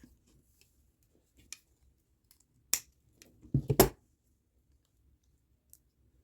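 String is snipped off a flat clown kandi charm, giving a few sparse, close clicks and one louder cluster of snips in near silence.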